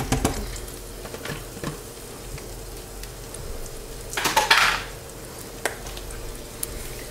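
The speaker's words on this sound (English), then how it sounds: "In my pan, I'm going to add about a tablespoon of olive oil, a large shallot. Let that cook for a minute." Chopped shallot cooking in a tablespoon of olive oil in a pan, a steady low sizzle running throughout with a louder burst of frying and a few light utensil clicks, no talking.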